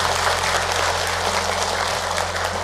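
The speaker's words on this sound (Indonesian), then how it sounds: "Tepuk tangan buat kita semua." An audience at a Ramadan religious talk claps in steady, dense applause throughout, with a low hum running underneath.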